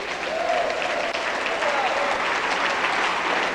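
A congregation claps for the Lord during a church service, a dense continuous roar of applause with a faint voice or tone rising briefly beneath it, steady and loud throughout.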